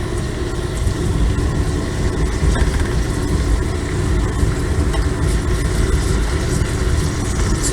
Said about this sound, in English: So must turn on the exhaust fan.